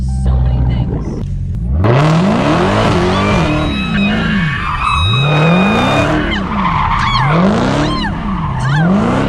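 An 800-horsepower Dodge Hellcat spins its tires, loud rubber squeals rising and falling in repeated sweeping waves over a roaring, revving engine, close and intense, with brief voices in the car.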